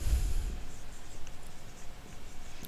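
Chalk or marker scratching across a board in a complex numbers lesson, a steady soft scraping stroke that fades into faint continuing strokes under low room noise, with no voices.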